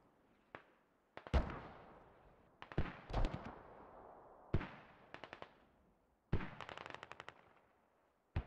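Enemy mortar fire in the tactical shooter Squad, with sharp, echoing bursts and impacts arriving in separated clusters amid otherwise quiet moments, fairly distant and unaccompanied by talk.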